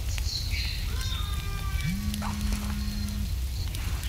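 Steady rain falls through a cold night in the survival video game The Forest, a constant soft patter with a few faint tonal game sounds layered over it.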